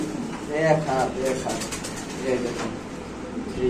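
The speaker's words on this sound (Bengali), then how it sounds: "চমৎকার কোয়ালিটি একটা বোখারা কবুতর" Bokhara pigeons coo in low rolling bursts close by, mixed with people talking at a pigeon sale.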